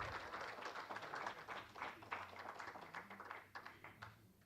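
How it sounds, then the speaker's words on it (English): Audience applause at the Hartford Public Library annual meeting, a dense, steady patter of many hands clapping across the room, fairly quiet and tapering slightly toward the end. "another round of applause, please, for our 28th Corporator of Distinction, Mrs. Juanita Giles."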